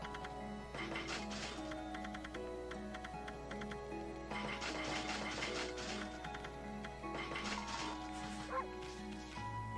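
Okami dog barks: a few short yips and barks in clusters over game music and background effects, moderately loud with no talking.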